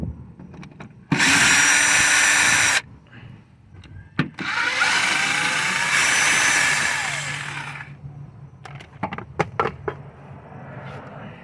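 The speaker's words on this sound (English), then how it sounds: "I'll be removing these two 10mm bolts here for this plastic cover." A power tool loosens two 10mm bolts from a plastic cover on a 2.4L Toyota Camry. Two loud, close bursts of whirring, the second longer, are followed by scattered clicks and rattles of the tool and bolts.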